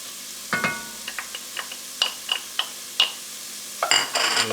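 Garlic, onion and celery sauté in a pot with bacon drippings under a soft, steady sizzle, punctuated by a series of sharp utensil taps and scrapes against the pot and ending in a busier clatter.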